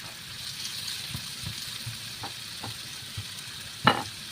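A pork chop fries in a pan with a low, steady sizzle, broken by a few soft taps and one sharper clatter near the end.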